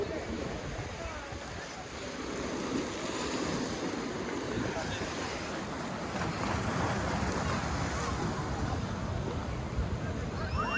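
Sea waves breaking at Digha Mohona, a broad steady roar of surf with wind buffeting the microphone throughout, growing slightly fuller toward the end.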